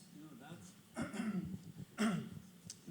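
A panelist at a heart-health symposium gives a few short nervous coughs and throat clears, close and fairly quiet, with brief talk around them.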